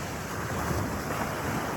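Ocean surf rolls onto a beach at Cabangan, Zambales in the morning, a steady broadband wash of waves mixed with wind noise on the microphone, continuous and moderately loud with no voices.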